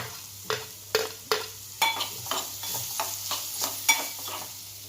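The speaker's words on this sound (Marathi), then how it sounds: "आता ह्याला व्यवस्थित हलवून घेऊया आणि आता आपण ह्याच्यात ओलं खोबरं टाकूया" Beetroot sabzi with fresh coconut being stirred in a pan, a spoon scraping and tapping in a steady series of soft strokes over a faint sizzle.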